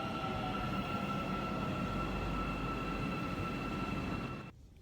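Steady rumble of an Istanbul metro train riding toward Yenikapi station, heard from inside the car with a constant hum, faint high whine and wheel noise that drops away abruptly at the end.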